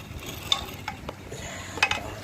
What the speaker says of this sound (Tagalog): parinig ko lang yung tunog ng sigunyal niya pag iniikot